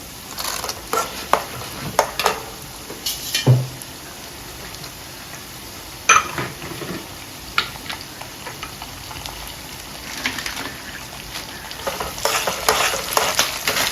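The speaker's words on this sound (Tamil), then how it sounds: "வேர்க்கடலை முந்திரி இது செவந்தோடையும்" Peanuts and cashews fry in oil in a pan with a steady crackling sizzle, punctuated by scraping and clinking stirs against the pan at close range; no talking.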